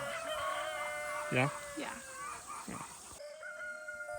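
Chickens cluck and a rooster crows on a pasture farm, several short calls and a crow at moderate distance, with a steady outdoor hum and brief casual talk from people nearby.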